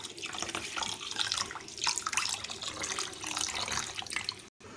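Black masoor lentils and rice being washed under running water, a steady close rush and splash of water in a pot or sink, continuous with a brief cut near the end.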